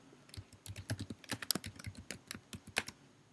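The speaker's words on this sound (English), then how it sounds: "Type that in and" Rapid keystrokes on a computer keyboard while entering a short phrase into a songwriting application, a quick irregular run of close, crisp clicks lasting a few seconds with no voices.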